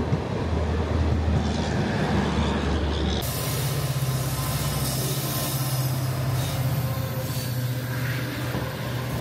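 The Sealdah Ajmer Express runs between Kishangarh and Jaipur, a loud steady roar of wheels and carriage rumble heard from on board, with a shift in tone partway through.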